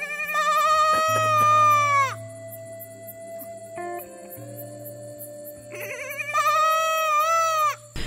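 A person imitates the bleating of a small distressed goat in the road in front of a car in Rajasthan, giving loud, wavering cries at the start and again near the end, with a quieter stretch in between.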